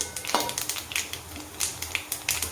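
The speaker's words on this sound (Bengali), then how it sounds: "সর্ষের তেলে একটুখানি কালো জিরে ফোড়ন দিলাম" Black cumin seeds frying in mustard oil in a home kitchen, a close crackling sizzle punctuated by sharp spattering pops and the scrape of stirring, with no talk.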